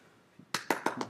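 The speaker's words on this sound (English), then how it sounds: "Clap." Four crisp hand claps ring out close by in a quiet room, evenly spaced in a quick run after a brief pause.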